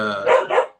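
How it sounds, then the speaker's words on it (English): A dog barks twice in quick succession in the background of a home, loud and close, with a short tonal whine leading in before the two sharp barks. "Sorry, that's my dog in the background."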